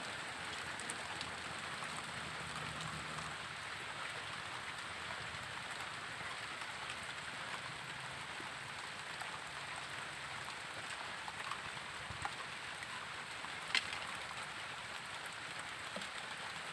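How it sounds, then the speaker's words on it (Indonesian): Steady rain falls across a rural fishing spot in Karang Tunggal, Tenggarong Seberang, a constant even hiss of drops on surfaces with an occasional louder drip, no voices. "Hujan bro,"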